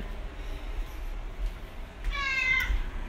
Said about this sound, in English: And look, there's a cat, Choco cat.